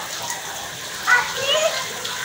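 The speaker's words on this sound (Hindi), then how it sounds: "कितना पानी है बारिश का।" Heavy rain falls with rainwater running and splashing in a continuous close hiss, while faint voices can be heard briefly through the downpour.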